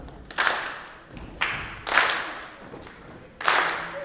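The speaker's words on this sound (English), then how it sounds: "Let's throw some clapping in there." An audience claps together in rhythm, bursts of handclaps landing roughly every half second to second in a steady group beat, moderately loud and close, with no talking over it.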